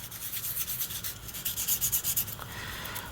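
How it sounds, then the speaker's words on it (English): A FlexiFile's black abrasive side rubbed over plastic on a 1:72 Academy Sopwith Camel model kit, close quick back-and-forth sanding strokes in a steady rhythm. "to actually polish it, we've got our FlexiFile here with the black side to remove scratches"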